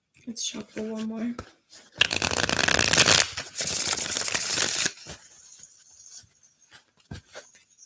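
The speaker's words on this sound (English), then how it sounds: "Let's shuffle one more." A deck of cards is shuffled close up in a few seconds of crisp riffling and rubbing, bracketed by a voice speaking before and after.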